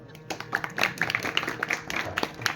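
Scattered audience clapping for a kirtan speaker at a devotional katha gathering, thin and uneven in short bursts, mixed with a murmuring voice.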